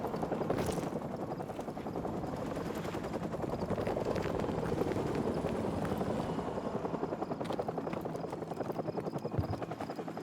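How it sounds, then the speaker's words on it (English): An enemy helicopter in Call of Duty 4 Remastered drones with a loud, steady rotor chop, close and continuous, with faint game sounds underneath and no talk. "grab a Stinger and take out that chopper."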